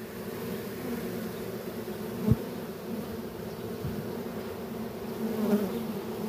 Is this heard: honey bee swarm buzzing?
yes